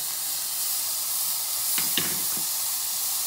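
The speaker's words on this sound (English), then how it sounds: "Actually, we're putting in 2 teaspoons of garlic" Garlic sizzling in a pan on low heat gives a steady soft hiss, with a few faint knocks of a utensil against the pan.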